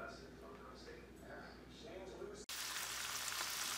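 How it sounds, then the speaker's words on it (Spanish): Chopped squid heads and scallops sizzle in hot olive oil, a steady, close frying hiss that jumps suddenly louder partway through. "Durante 2 minutos sofreímos las cabezas de calamar cortadas en trocitos junto con las vieiras."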